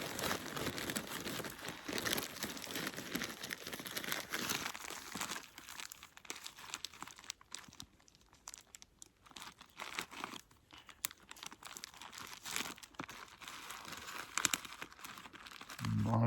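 Plastic one-gallon Ziploc bag holding a tarp, stakes, guy lines and emergency bivvy, crinkling and rustling close up as it is handled, dense at first then sparser scattered crackles.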